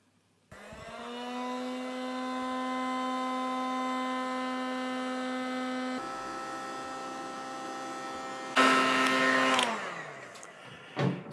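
A steady electrical hum and whir runs for several seconds beside a pottery wheel while a large clay bowl is heated, then a louder, rougher blast of noise joins briefly before dropping away.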